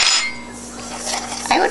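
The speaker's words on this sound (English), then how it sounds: "Well, first we gotta stir these all up." Dry biscotti ingredients with baking powder stirred in a bowl, a short close clatter and scrape of utensil against the bowl, loud at the start and again near the end.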